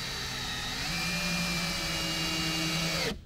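A power drill drives screws to join wall pieces of a small DIY cabin, a steady whirring whine that pitches down under load for a few seconds before cutting off abruptly.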